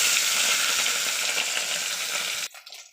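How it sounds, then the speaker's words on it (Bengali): Katla fish pieces frying in hot oil, a loud, dense, continuous sizzle close by that cuts off abruptly near the end. "আর মাছগুলো ছেড়ে দেবো এক এক করে"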